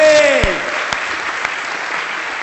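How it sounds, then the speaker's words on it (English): Audience applause for a conference panel on mobile apps and ads, a dense wash of clapping from a crowd filling the whole moment as a voice trails off at the start. "I'd like you to give up a huge round of applause for our panel"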